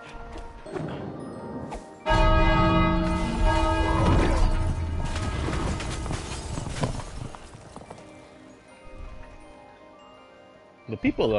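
In the video game It Takes Two, a bell rings out with a loud struck onset that leaves a long, shimmering metallic tone slowly fading over several seconds, with clattering game sounds around it.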